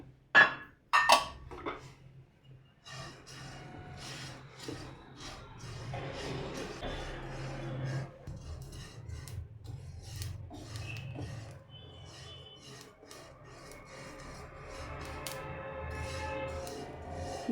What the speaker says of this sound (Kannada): ಈಗ ಜೀರಿಗೆ ಹುರ್ಕೋತಾ ಇದ್ದೀನಿ.